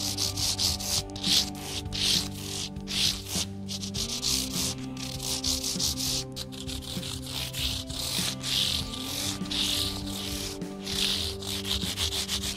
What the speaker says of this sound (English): it's just easier to do a little hand sanding for the fret ends